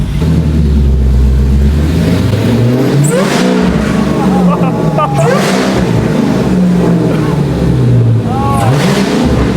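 Loud, throaty engine rumbling close by from a Hellcat-engined Magnum with a lumpy, uneven idle running rich, and occasional small revs; people talk briefly over it.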